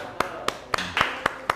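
Classroom applause, a handful of separate faint claps at a slow, uneven rhythm, like a few hands clapping in a quiet room.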